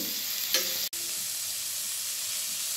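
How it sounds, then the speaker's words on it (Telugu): Onions, green chilies and ginger garlic paste fry in a pan for jackfruit biryani, giving a soft, steady sizzle with a brief clatter of stirring near the start. "1 టేబుల్ స్పూన్ అల్లం వెల్లుల్లి పేస్ట్ వేసుకుని వేయించుకోవాలండి"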